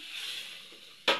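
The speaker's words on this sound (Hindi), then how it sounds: "ये हमारा तड़का लग चुका है" Hot oil sizzles softly as a tadka tempering is cooked in a pan in a home kitchen, a steady hiss ending in a sudden louder burst of spitting.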